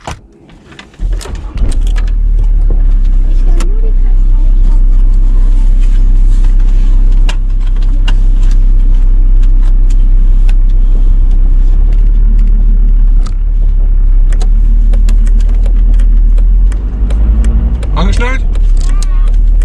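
A car sets off from inside the cabin, its engine starting and settling into a steady, loud low rumble that holds for nearly twenty seconds.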